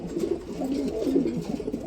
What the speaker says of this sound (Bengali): নটটা ডাক দেখাই দেবো